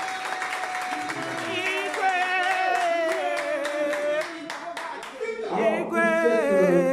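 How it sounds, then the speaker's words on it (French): Audience applause at a Werrason press conference in Paris, steady clapping from a crowd filling the room, sustained throughout with a melodic vocal line or music over it and a brief dip near the end. "je vous demanderai d'applaudir, une 5e fois, M. Werrason"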